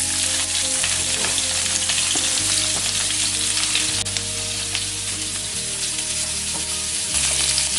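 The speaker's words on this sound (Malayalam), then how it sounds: "എന്നിട്ടൊന്ന് വഴറ്റി കൊടുക്കുക." Three sliced onions sauté in a pan for chicken tikka biryani, a loud, dense, continuous sizzle of hot oil with occasional soft stirring knocks and a low background hum.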